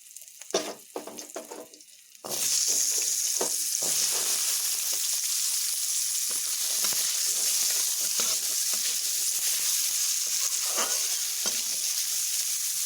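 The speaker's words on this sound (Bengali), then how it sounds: "কেটে রাখা আলুগুলোকে এখন এখানে ছেড়ে" Cut potatoes dropped into hot oil with cumin and green chillies, quiet clinks at first, then a sudden loud, sustained sizzle that keeps crackling steadily close up with occasional stirring ticks.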